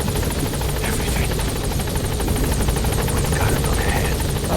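A continuous, loud rotor roar from a hovering support helicopter in the video game Metal Gear Solid V fills the whole stretch, with little else over it.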